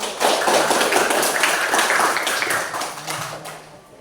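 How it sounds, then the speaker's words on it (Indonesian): A classroom of students clapping their hands together in a loud, dense, sustained burst lasting several seconds before tapering off, close and filling the room. "Beri tepuk tangan dulu."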